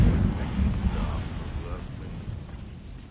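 Incendio fire spell cast in Hogwarts Legacy: a deep, rumbling burst that rolls on and slowly fades over about three seconds.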